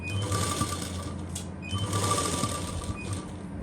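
A sewing machine stitches a lace neckline onto a salwar suit in two quick runs of rapid, close mechanical clatter separated by a brief pause.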